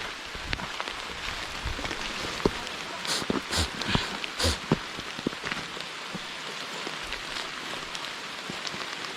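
Steady rain falls and patters on a surface, with heavier drips hitting nearby now and then, no talking.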